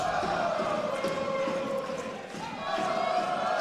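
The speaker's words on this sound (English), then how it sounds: "Crowd still into this match." Steady crowd noise fills a prep wrestling match between Holy Cross and Jesuit, a continuous roar with cheering swells and a brief dip before rising again, loud and constant throughout.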